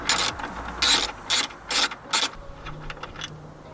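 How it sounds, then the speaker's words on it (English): Ratchet with a T40 Torx bit loosening an intake bolt on a BMW F30, five crisp close bursts of clicking, then fainter ticks trailing off. "So take a T40 and just loosen this bolt."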